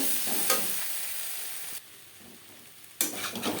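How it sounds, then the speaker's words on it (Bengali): Fish roe cooks in a pan with onion and spices, giving a bright close sizzle that drops away for about a second midway and then surges back as the stirring resumes. "পেঁয়াজ ও মশলার সাথে ডিম বেশ ভালো করে কষিয়ে নেওয়া হয়ে গেছে"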